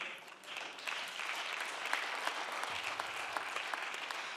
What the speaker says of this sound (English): I'm so glad you're clapping.